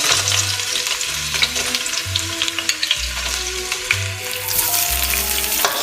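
Onion fries loudly in a pan, its crisp sizzle broken by repeated scraping stirs and clanks of the utensil against the pan, close and busy.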